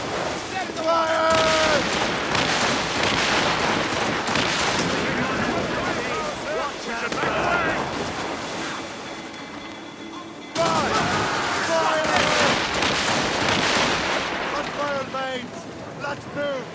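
Ship cannons fire in a naval battle in Assassin's Creed Rogue, loud booming volleys and rumbling blasts over wind and creaking sails, with shouted crew voices mixed throughout.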